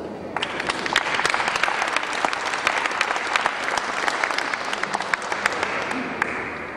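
Sustained applause from an audience at a night fighter squadron reunion talk, dense steady clapping filling the whole stretch at a moderate distance with no voices over it.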